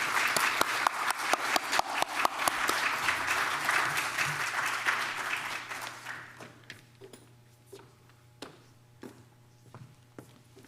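Lecture audience applauding to welcome a speaker, with dense clapping that fades to a few scattered claps near the end, alone without talk.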